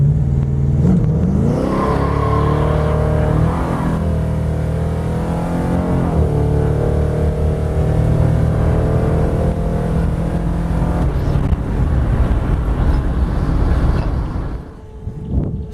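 Low-budget Plymouth Duster 318 V8 with headers and a PTC 9.5-inch torque converter, heard from inside the car, pulls loudly and steadily through the gears with rising and shifting engine tones before easing off.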